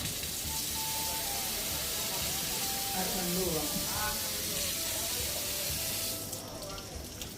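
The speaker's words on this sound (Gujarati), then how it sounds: "હવે જકુજી ભરવો છે ટ્રાય કરવો ચાલો." Water pours steadily from a tap into a resort jacuzzi, a continuous close hiss and splash that eases near the end, with voices talking over it.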